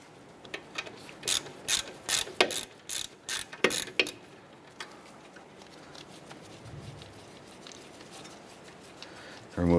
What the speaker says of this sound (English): Using a 12mm socket, go ahead and remove our flex line bolt for the bracket.